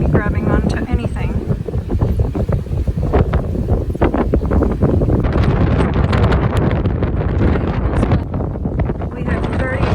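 Strong gusting wind buffets a sailboat at a stormy anchorage near Lefkada in the Ionian Sea, a loud, continuous roar of wind noise across the microphone with voices talking underneath.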